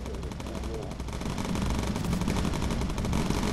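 Bomber gunners in the Bomber Crew video game fire their machine guns in a dense, continuous rattle of rapid shots, close and steady for a few seconds.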